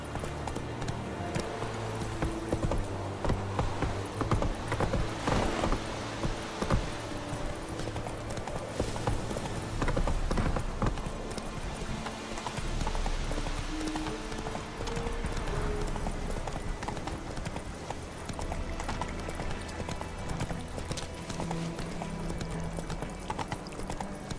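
In The Witcher 3, horse hooves clip-clop steadily and continuously for about twenty seconds at a moderate, even pace, over game ambience with an occasional faint snort.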